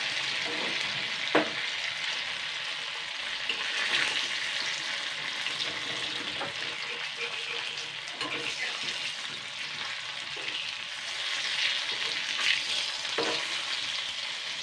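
Food fries in hot oil in a kadai until reddish, a continuous bubbling sizzle with occasional spatula scrapes and clinks, steady and fairly close from start to end.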